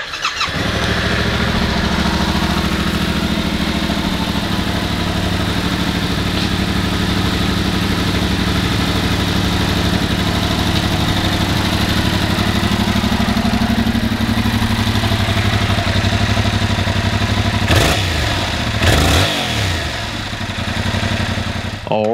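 A 2021 Yamaha MT-07 motorcycle with about 1,004 miles fires up and settles into a loud, close, steady idle, its engine note holding for over twenty seconds with a couple of brief revs near the end.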